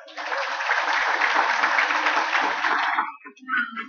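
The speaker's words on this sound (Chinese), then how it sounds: "是不是给所有的队伍一个掌声？" An audience at a middle-school camp at a temple hall in Tainan claps for all the teams, loud dense applause for about three seconds, then it tapers and a short burst of clapping follows.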